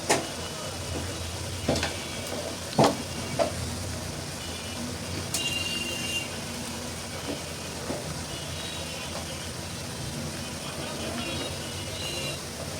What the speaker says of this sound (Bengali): এখন মশলাটাকে খুব ভালোভাবে কষিয়ে নিচ্ছি উপরে তেল না ওঠা পর্যন্ত।